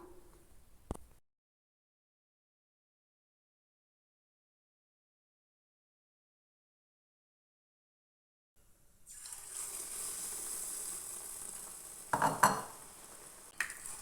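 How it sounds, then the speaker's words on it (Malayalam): Batter-dipped banana fritters dropped into hot oil in a small pan set off a steady sizzle that starts after a long silence, with a few sharp clinks of utensils against the pan. "എണ്ണ നന്നായിട്ട് തന്നെ ചൂടായി വന്നതിന് ശേഷം ഇതിലോട്ട് നമുക്ക് മാവിൽ മുക്കി കൊടുത്ത് ഇട്ടെടുക്കാം"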